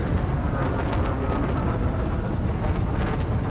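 Spaceship engines boosting in Elite Dangerous, a steady, roaring, wind-like rumble that swells slightly and holds throughout, with no voices.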